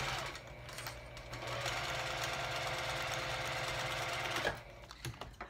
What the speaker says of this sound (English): I'm gonna start by sewing an X on the pretty sides of the fabric